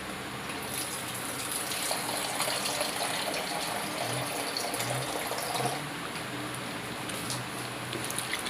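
Water gushes steadily into a cooking pot for spaghetti, a loud continuous pouring stream that stays close and unbroken throughout.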